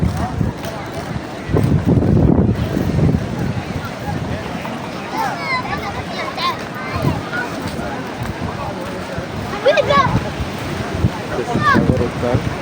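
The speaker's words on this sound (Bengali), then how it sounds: "আজকে প্রচুর বাতাস বলতেছে, সাগর অনেক উত্তাল।" Strong wind buffets the microphone at a rough seashore near Jeddah while surf churns beneath, with a person talking throughout.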